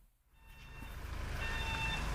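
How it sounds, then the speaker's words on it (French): A faint high electronic beep repeating at intervals over a rising low engine rumble from a large vehicle nearby. "Le bip qu'on entend à 2 heures du matin pour dire tasse ton char"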